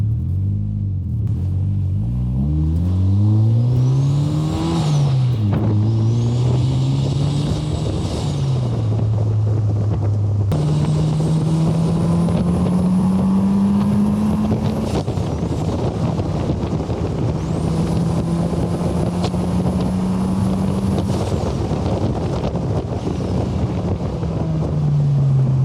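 A turbocharged Mazda Miata races around the Autobahn Country Club track in the rain. Its engine drones loudly and continuously, pitch climbing and dropping sharply through repeated gear shifts, with wind buffeting the microphone throughout and no talking.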